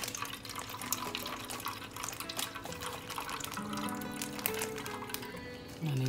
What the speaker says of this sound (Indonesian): Kita tuang dulu airnya.